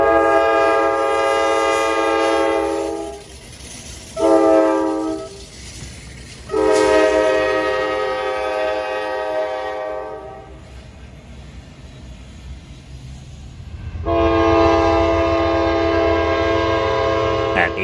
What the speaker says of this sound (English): local job G88 returns from Atlanta as light power with GP60 7101 leading